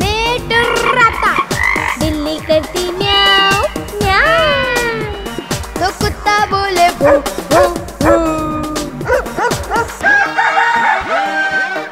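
A cartoon cat's meow sung into a Hindi nursery rhyme about balloons and animals, mixed with bright music and animal-like croaks and barks, with sung vocals throughout.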